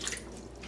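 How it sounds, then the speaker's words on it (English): Water poured into a bread machine pan for pizza dough, a short, steady close trickle with light dripping, alone and without talk. "So it's said to add in 7 to 8 ounces of water."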